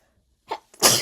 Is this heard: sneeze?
yes